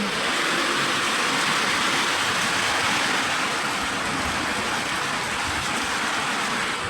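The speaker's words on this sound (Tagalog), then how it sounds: "malakas na po talaga ang ulan dito sa amin" Heavy rain pours down in a dense, unbroken roar, loud and close throughout with no voices.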